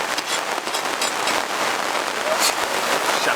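Heavy rain pours on an overlanding campsite in the backroads of elk country near Benezette, Pennsylvania, a steady dense hiss of drops drumming close by with scattered sharper splats throughout.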